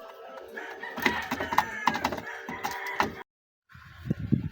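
Chickens, including a Rhode Island rooster, cluck and call close by in repeated bursts with a few crow-like notes, broken by a short moment of silence before the clucking resumes.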